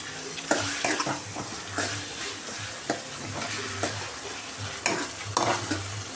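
Tomatoes fry with softened onions in a pan for a chutney. A loud, continuous sizzle and crackle comes with repeated scraping and stirring strokes close by, and no one speaks.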